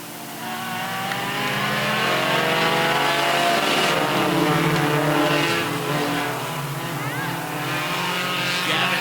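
Race cars accelerate hard on a lap 22 restart in a 2025 touring series event, engines roaring loudly and continuously with rising pitch as the pack passes close by, with a commentator's voice faintly underneath.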